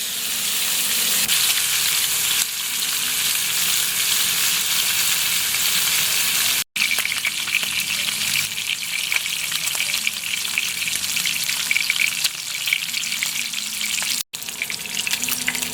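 Pork belly frying and sizzling in its own rendered fat for adobo, a steady loud crackle that carries on without pause across the whole stretch.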